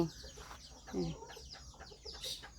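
Bantam chickens on a farm in Chanthaburi cluck in scattered short calls at close to middle distance, with a faint voice now and then in the background.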